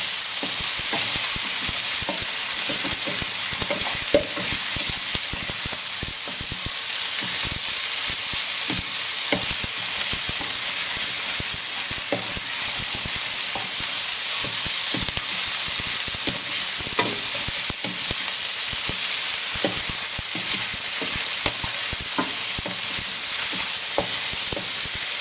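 Kung Pao chicken with green onions stir-frying in a hot pan, a steady loud sizzle with frequent scraping and clacking of the spatula throughout, no voices.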